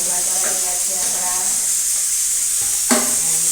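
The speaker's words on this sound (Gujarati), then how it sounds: "અહીંયા આપણે ભૂંગળા તળીએ" Bhungla snacks frying in hot oil in a kadhai, a steady loud sizzle and hiss throughout with a brief clatter near the end.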